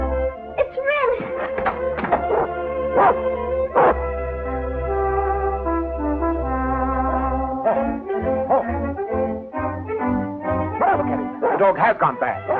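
A dog, the German Shepherd Rin Tin Tin, barks in several sharp bursts spread through the scene over a continuous background of orchestral film score.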